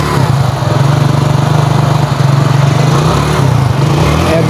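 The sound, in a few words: 100cc motorcycle engine running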